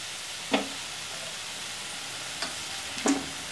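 Taro with gram flour gently stirred in a frying pan: a soft, steady sizzle with a few light scrapes and clinks of the spoon, faint and without voices.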